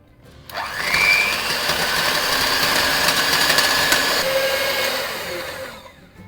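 An electric mixer whirs steadily as it beats bread, cold milk and mango juice into a pudding base, spinning up quickly, holding a loud even drone for several seconds, then winding down.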